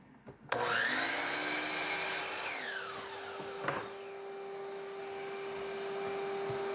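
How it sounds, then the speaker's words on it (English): Power saw with its table angled at 45 degrees trims the remaining corners off a scrap wood pumpkin blank, a loud steady motor whine with a brief cutting bite midway, then running on alone. "Turn the table to 45 degrees in the opposite direction, and I'm going to cut the remaining corners off."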